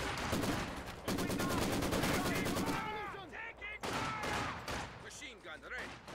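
Machine gun fire in Company of Heroes 2 rattles in fast, evenly spaced bursts, loud and close at first, then breaks into scattered shots and sharp ricochet-like whines amid battle noise.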